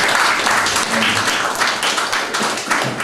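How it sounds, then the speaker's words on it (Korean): Audience applause welcoming a former KBS board chair to a Media Solidarity anniversary ceremony, a dense steady patter of clapping filling the hall throughout, with faint murmuring voices underneath. "박수로 환영해 주시기 바랍니다."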